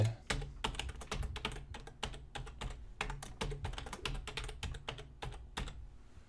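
Rapid bursts of keystrokes on a computer keyboard come in irregular clusters with short pauses, close and clear, during a live web work session, with no talk.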